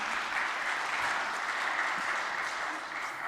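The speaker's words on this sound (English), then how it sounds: "Round of applause, right?" A Sunday church congregation breaks into steady applause during a fundraising appeal, a moderately loud, even wash of many hands clapping with no voices standing out.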